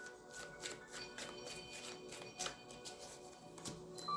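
A deck of tarot cards is riffled and shuffled in quick, crisp bursts of flicking and tapping, close and fairly quiet, with no voices.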